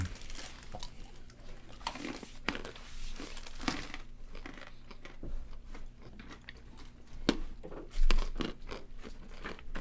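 Someone crunches and chews Mexican hard-shell peanut candy, with sharp, close bites and crackling chews alongside wrapper crinkling, with no talking.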